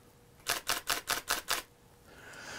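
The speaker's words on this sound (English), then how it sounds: "Pressing the shutter button will take anywhere from 1 to 5 photos in a row" A Nikon DSLR fires six shutter releases in continuous low mode, a rapid even burst of crisp mechanical clacks about five per second, close and alone over faint room hiss.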